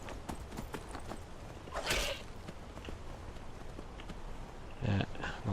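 Horse hooves clopping in a steady rhythm while riding through the video game Skyrim, moderately close, with a louder scuffing burst near the start and a few heavier thumps near the end.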